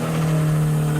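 Modified BMW car accelerating hard away from a car meet, a loud steady engine drone with strong harmonic tones, sustained and close for the whole moment.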